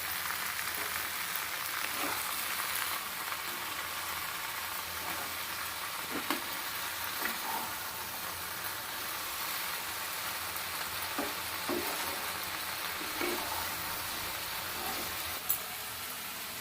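Food fries in a pan for a village-style jujube (kul) pickle and is stirred constantly, giving a steady close sizzle broken by recurring soft scrapes of the spoon, with no talking.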